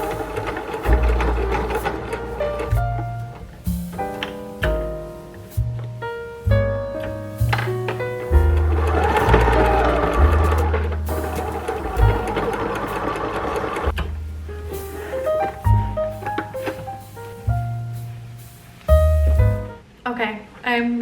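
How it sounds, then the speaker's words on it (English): A sewing machine stitches fabric for a tie top shirt, its fast mechanical whirring running in bursts that start and stop repeatedly, close and loud. "let's get to sewing."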